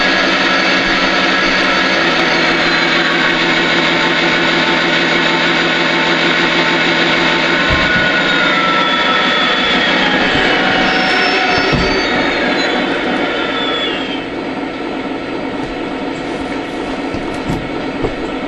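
Lionel SD70ACe model diesel sound effects hold a steady, loud engine throb, then the RPM winds back down partway through, the tone dropping and settling into a lower idle.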